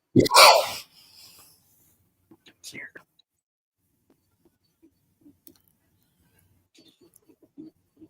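A single loud sneeze bursts out at the start, followed by quiet shuffling and faint clicks in an otherwise hushed room.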